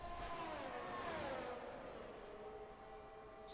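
A McLaren race car in a racing video game on the Miami circuit sweeps past with a rising then falling engine whine that fades into a steady distant drone.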